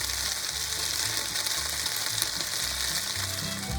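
Beef noodles are stir-fried with a loud, continuous sizzle up close, and low thumps and scrapes of tossing run underneath. No talking.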